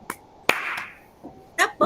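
An Indonesian school class gives one sharp, unified clap that rings briefly in the room, surrounded by short bits of voices talking before and after.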